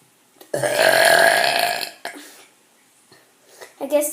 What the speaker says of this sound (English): I guess I'll do one more burp.